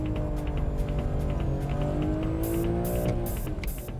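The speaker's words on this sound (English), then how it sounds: "Ah, nice power slide there." A BMW M3 power slides through a drift on a track, tires squealing in long rising tones over the engine's revving drone, with sharp bursts of squeal toward the end.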